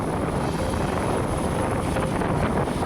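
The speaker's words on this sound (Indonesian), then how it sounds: "yang ingin melihat kedatangan helikopter yang ditumpangi Presiden Joko Widodo saat mendarat di alun-alun Kota Raha" A helicopter carrying Indonesia's president comes in to land on a town square in Raha, Muna, Southeast Sulawesi, its rotor and engine making a loud, steady, broadband roar that fills the whole stretch with no talk.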